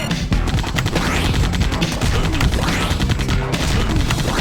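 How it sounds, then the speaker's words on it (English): Machine gun fire in a video game, rapid continuous bursts with crashing impacts, loud and dense throughout, unbroken by pauses. "He's using his machine gun."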